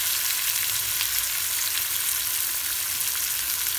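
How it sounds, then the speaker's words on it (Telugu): Onions with a little salt frying in a pan as the base for a curry, giving a steady, dense sizzle that runs unbroken and fairly loud throughout, with no voices. "ఉల్లిపాయలు కొంచెం సాల్ట్ వేసుకుంటే త్వరగా వేగిపోతాం."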